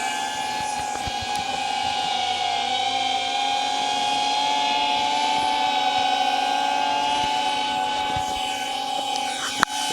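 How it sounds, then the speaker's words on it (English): A DJI Avata 2 drone fitted with Master Airscrew stealth propellers hovering nearby, its steady high-pitched whine and tonal hum continuous throughout, with one sharp click near the end. "closer to the drone"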